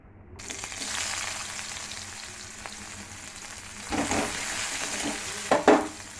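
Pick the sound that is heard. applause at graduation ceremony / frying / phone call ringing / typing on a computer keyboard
frying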